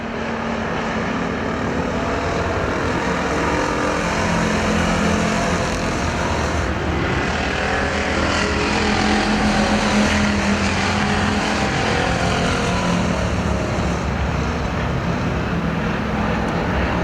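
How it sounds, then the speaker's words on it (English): American Factory Stock race cars roaring around the Perris Auto Speedway oval, a loud continuous pack of engines that swells and fades slightly as they pass, with no talking over it. "That's a good pack coming off turn number 2."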